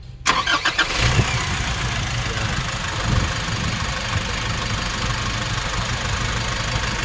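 A Nissan NV350 van engine with freshly replaced injectors cranks briefly and catches within about a second, then settles into a steady, loud, close idle with a slight knocking rumble and no talk.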